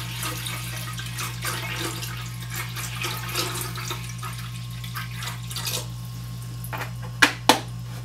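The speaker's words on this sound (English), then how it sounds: "I'm just using tap water for this. So I'm going to do about 800 milliliters in each beaker." Tap water runs into laboratory beakers, about 800 milliliters each, as a soft, steady trickle over a constant low hum, with a couple of sharp clinks near the end.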